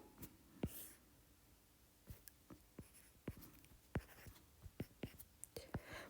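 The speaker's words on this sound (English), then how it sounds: "So I'm going to draw up my unit circle." A pen scratching on paper as a unit circle is drawn, a run of soft, close, uneven taps and short strokes against faint room noise.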